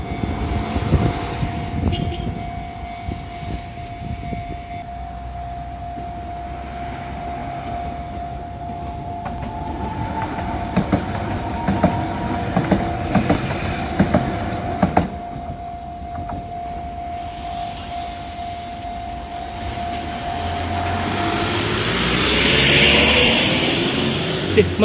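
An Enoden electric train near Kamakura-Kōkōmae station on the coastal line rumbles past for about twenty-five seconds, with a long steady whine over the rolling noise and the roar swelling toward the end.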